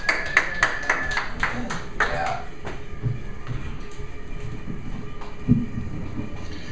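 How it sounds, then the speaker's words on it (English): Scattered claps ring out at a poetry open mic, a few sharp distinct hand strikes at the start that thin out as low murmuring and room noise take over. "Let's have a round of applause."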